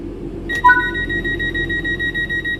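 Train doors closing in Train Sim World 4, a sharp click followed by a steady two-tone electronic warning chime that pulses on over a low engine hum.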